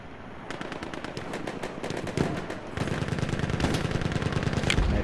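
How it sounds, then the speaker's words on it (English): Rapid automatic weapon fire in a WWI battle video game, sustained bursts crackling over a dense battlefield din, with louder, closer volleys building toward the end and no talk. "because he has the automatic weapon."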